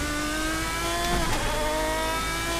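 A Lanzo (Lamborghini) V12 GT1 race car engine in Assetto Corsa, a steady high-revving V12 drone with layered harmonic whine that holds loud and constant, alone without talk.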